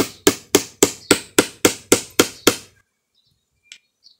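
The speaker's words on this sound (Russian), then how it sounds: "До конца гвозди я не добиваю" Nails being hammered into a wooden birdhouse, nine evenly spaced, sharp close hammer blows in a steady rhythm, then silence apart from a couple of faint clicks.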